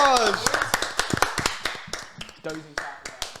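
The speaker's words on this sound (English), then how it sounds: "Round of applause." A handful of people clap in a round of applause during a live interview, giving scattered, uneven sharp claps with cheering and talk mixed in.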